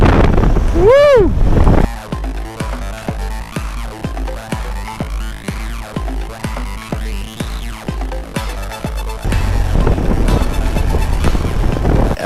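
BMW GS adventure motorcycle riding a barely paved back road in the Southern Sierras, with heavy wind buffeting the microphone over a pulsing engine drone. A rising engine whine comes near the start, and a voice speaks briefly under the roar.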